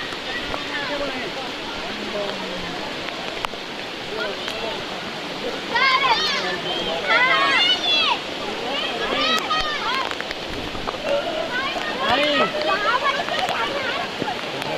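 River in heavy rain, crossing point with fast current: a steady broadband rush of flowing water and rain hiss throughout, close and loud, with wind buffeting and people's voices calling over it.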